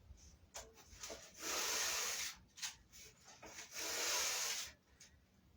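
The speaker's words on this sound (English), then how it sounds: "Just simply take it apart, grab a sponge, and get ready to scrub" A sponge scrubs wood stove parts in repeated rough strokes, bursts of harsh rubbing separated by short pauses, near and fairly loud with no talking.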